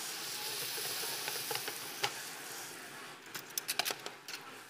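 Chicken wings frying in a pan, a steady soft sizzle running throughout with a few sharper crackles and pops toward the end.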